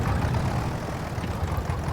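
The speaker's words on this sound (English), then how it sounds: "That to me is how a tractor should sound." Tractor engine idling in the video game Farming Simulator 22, a steady low, heavy diesel rumble, continuous and fairly loud, with no voices over it.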